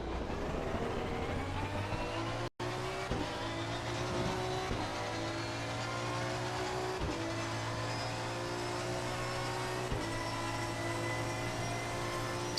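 A racing car's engine drones steadily throughout a racing game, holding a continuous tone that shifts up and down through gear changes, with one brief sharp dropout early on.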